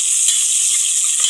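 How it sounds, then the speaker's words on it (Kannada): Onions frying in a pan for mutton sambar, a loud, steady, hissing sizzle close up with no voices. "ಕೆಂಪಾಗಂಗೆ ಫ್ರೈ ಮಾಡ್ಕೋಬೇಕು."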